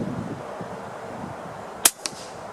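A sharp FX Crown MKII air rifle shot firing a 25-grain pellet cracks once over a quiet outdoor background, followed by a fainter second snap a moment later.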